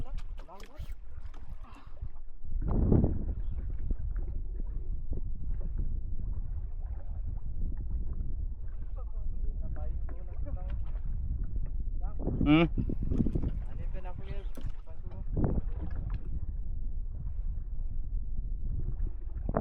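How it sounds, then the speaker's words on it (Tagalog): A small fishing boat out on the sea beyond the reef during a giant trevally trip, with wind buffeting the mic, water sloshing against the hull, a few knocks and thumps, and people talking over it. "Dala na yung bangka natin guys."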